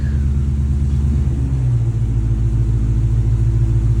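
A Dodge Challenger ScatPack Widebody with headers, running on E85, slows in neutral on a dyno. A loud low engine drone and rumble winds down steadily as the dyno's air brake takes hold.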